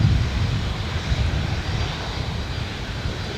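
A Qantas airliner taxiing onto the runway at Adelaide Airport gives a steady, moderately loud engine roar with a deep rumble, heard from a distance and continuous throughout.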